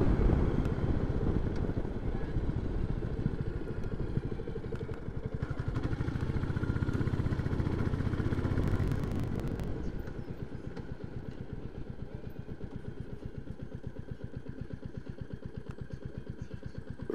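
A Royal Enfield Classic 350 four-stroke single-cylinder motorcycle engine chugs steadily up close, its rhythmic thumping firing pulses continuous throughout with a brief rise in revs midway.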